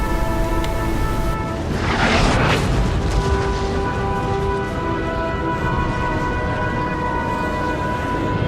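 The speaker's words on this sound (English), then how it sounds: "At this point, I limit my howitzers to return fire." Howitzer artillery fire in the Napoleon: Total War video game, heard as a deep boom that rolls out over a constant low battle rumble with distant crackling, and no speech.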